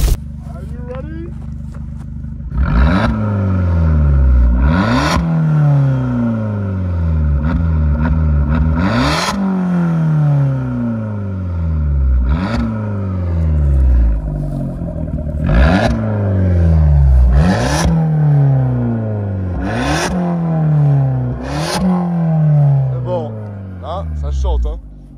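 An Abarth's turbo engine revs hard again and again in sharp bursts, each rise followed by a falling whine, loud and close, with a turbo whoosh between revs.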